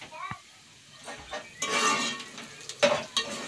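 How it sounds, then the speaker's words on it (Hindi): Onions frying in a pot on a home stove, a hiss and sizzle that swells and fades across several stirring bursts, with faint clinks of utensils and brief background voices. "ये प्याज भुनी जा रही है इस टाइम।"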